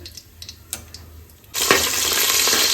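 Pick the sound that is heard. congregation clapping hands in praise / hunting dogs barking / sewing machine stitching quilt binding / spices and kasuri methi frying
spices and kasuri methi frying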